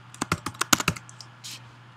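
Quick bursts of close computer-keyboard keystrokes, about nine sharp clicks in a second as Java JDBC batch-update code is typed, then a softer tap and silence.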